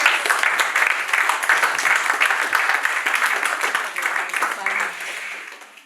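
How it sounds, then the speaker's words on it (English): An audience at a talk on scaling influence claps for themselves, a dense, fairly loud patter of clapping that fades gradually toward the end. "Can you clap for yourself?"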